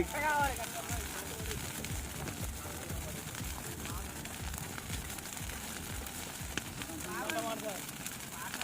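An outdoor fire burns in a village field, giving a continuous crackle and hiss at moderate level, with people talking over it.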